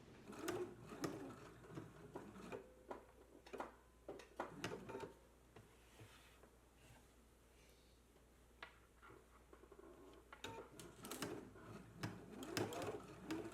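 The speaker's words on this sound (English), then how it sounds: "we can go to the sewing machine, stitch down the side, the lower edge, and back up here to the previous stitch" Sewing machine stitching down a partial placket through all layers, quiet bursts of clicking and whirring with irregular stops and starts, the mechanism ticking between short runs.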